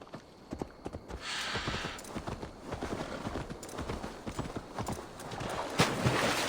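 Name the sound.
horse hooves clip-clop in video game Assassin's Creed Valhalla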